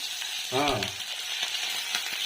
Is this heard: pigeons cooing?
no